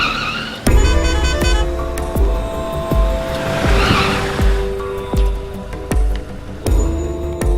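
In a Tamil action movie, a car skids to a stop with repeated loud tire squeals over a revving engine, punctuated by sharp impacts and music-like tones.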